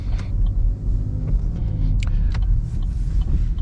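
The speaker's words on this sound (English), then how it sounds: "And then I gently ease into the accelerator." A car pulls away gently and turns out slowly, its engine a steady low rumble under a few faint clicks and interior creaks, heard from inside the cabin with no voices.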